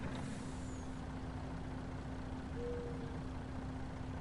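A truck in Farming Simulator 19 idles with a steady low engine drone and a faint air-brake style hiss, continuous and fairly quiet with no talk.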